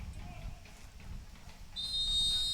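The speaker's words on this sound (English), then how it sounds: "there is the whistle, and we are underway" A referee's whistle sounds at kickoff of a soccer match between Los Angeles Force and Albion San Diego at Championship Soccer Stadium in Irvine, a sustained shrill tone entering late over low stadium rumble.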